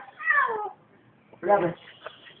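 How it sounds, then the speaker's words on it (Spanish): A cat hidden behind a fridge meows twice, a falling cry then a shorter one after a pause, faint and muffled, with a voice nearby. "¡Oye el gato, oye el gato!"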